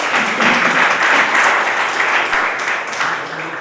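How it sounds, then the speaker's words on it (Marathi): Sustained applause from an audience at a college foundation day ceremony, steady dense clapping at fairly loud level throughout with no speech over it. "तुंडुरवार सरांसाठी जोरदार टाळ्या"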